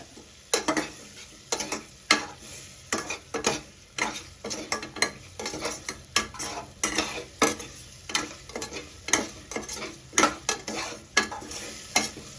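Sambar powder and turmeric sautéing in tomato juice in a one-pot dish of green gram and rice, with a soft, steady sizzle broken by regular scraping and stirring strokes of a spoon against the pot.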